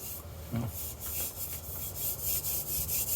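Dry, raspy rubbing strokes of a hand across a rough painted car surface before wet sanding, repeated in a fairly even rhythm, close and fairly quiet.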